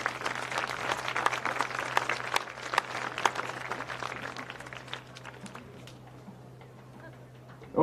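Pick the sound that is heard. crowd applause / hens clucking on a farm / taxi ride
crowd applause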